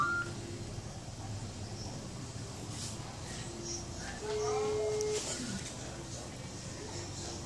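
A phone is dialed to place a call, with a few short tonal beeps and one longer tone rising over soft background noise. Quiet talk and murmuring run beneath.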